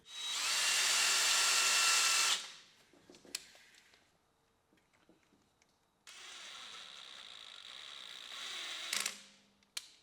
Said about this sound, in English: I couldn't figure out a simple way to drill the back side of the vise in the mill, so the old hand drill press will have to do